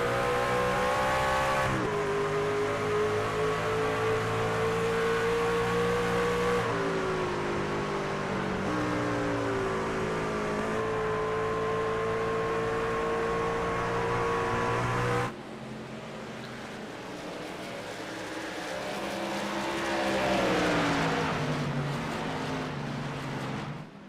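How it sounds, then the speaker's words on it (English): Racing trucks in a video game lap the Magic Mile, engines droning loud and continuous with repeated pitch drops as both trucks downshift, the tone shifting abruptly through the run. "Downshifting both trucks."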